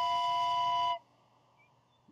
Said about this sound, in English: But here's his whistle.